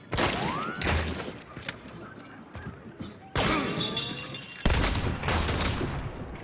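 Gunfire in the video game Hunt: Showdown, several sharp shots and thuds in quick bursts with abrupt loud onsets, some close and some distant, against a noisy game background.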